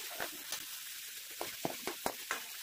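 Onion and tomato being fried in oil over a full gas flame for pav bhaji, heard as a faint, quiet sizzle with a series of short crackles and stirring scrapes near the end.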